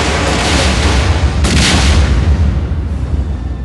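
Heavy cannon fire and explosions in a Star Wars Lego stop-motion battle, a continuous dense barrage of booms with a sharper blast near the middle and no voices over it.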